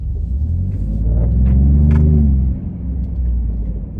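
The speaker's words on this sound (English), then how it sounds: "Okay, now I'm in valet. I'm gonna full throttle." A 2021-or-later Ford F-150 engine pushed to full throttle in valet mode, a loud close rumble that rises in pitch briefly, then drops back to a steady idle-like drone.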